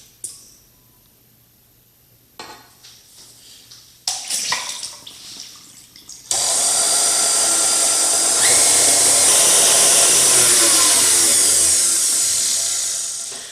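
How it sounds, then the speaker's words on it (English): After a few soft clinks and knocks, an electric mixer switches on and beats eggs and vanilla into chocolate chip cookie dough with a loud, steady whirring drone that runs to the end. "Now that we've mixed our eggs for about a minute"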